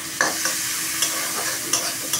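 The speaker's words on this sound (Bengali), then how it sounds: "পেঁয়াজটা ভাজবো।" Onions sizzle steadily in a hot pan, close up, while a spatula stirs them and scrapes the pan in sharp clicks about every half second; no voices.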